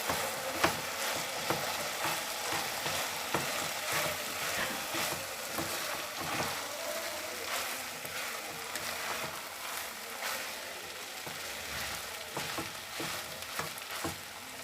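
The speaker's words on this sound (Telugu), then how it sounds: "రైస్ వేసుకొని కలుపుకోవాలి." Cooked rice being stirred into a tamarind pulihora mixture in a pan, a steady scraping and sizzling under a faint continuous hiss with no talk.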